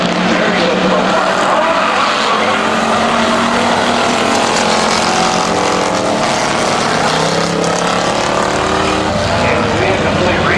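Race cars roaring around the oval at Midvale Speedway, several running three wide, a loud continuous engine drone with shifting pitch from passing cars, near and dense throughout, with the announcer's voice under the engines.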